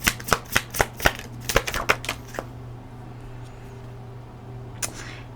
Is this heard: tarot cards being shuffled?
yes